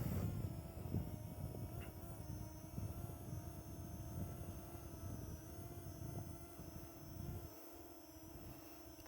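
Parrot ANAFI drone flying nearby, a steady broadband whir of small propellers with a constant tonal hum, continuous and fairly loud throughout with little variation.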